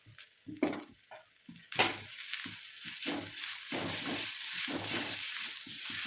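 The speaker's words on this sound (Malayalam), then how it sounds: "തേങ്ങ വറുത്തെടുക്കാം" Steady sizzle of grated coconut roasting in a hot pan with cumin and garlic, broken by repeated scraping stirs, close up and without voices.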